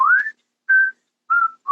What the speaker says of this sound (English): And he starts whistling in the middle of the song.